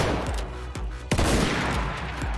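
Repeater rifle gunfire in the Roblox game Zulu Wars, set in an Anglo-Zulu War battle with a British line: a dense, close volley of sharp cracks, with a few separate shots standing out, continuing steadily and without voices.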